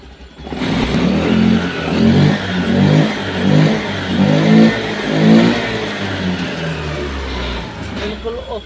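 Honda Activa BS6 scooter engine being revved up repeatedly, rising and falling in rhythmic surges with a steady mid-low drone, loud and close throughout, with a voice talking over it.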